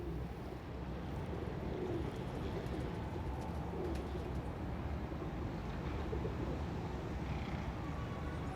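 Soft cooing of breeder pigeons murmurs at a steady level amid a low, constant background rumble, with no voices.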